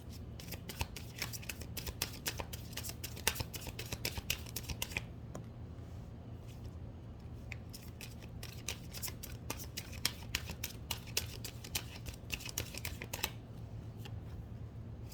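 Tarot cards being shuffled in a deck, a steady run of crisp riffling flicks and soft slaps close to the microphone, with brief pauses between bursts over a low steady hum and no talking.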